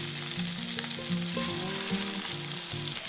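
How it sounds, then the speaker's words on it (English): Ptarmigan breasts sizzle steadily in melted butter in a hot pan, a loud, close, continuous frying crackle with no speech. "Pan's nice and hot. We're melting 1 tablespoon of butter. Adding our breasts."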